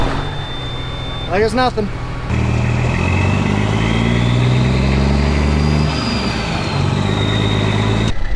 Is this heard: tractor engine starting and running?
yes